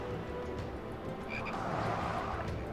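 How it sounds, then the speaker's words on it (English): A giant frog in the video game Final Fantasy XIV croaks amid a dense, steady game soundscape, its low croaks blending into constant background ambience at a fairly soft level. "Oh, great, we have to deal with giant frogs, too."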